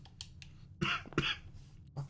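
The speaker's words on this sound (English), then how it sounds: "A bit of a cough." A person coughs a few times, short, dry, close coughs in quiet surroundings, with a throat-clearing hack between them.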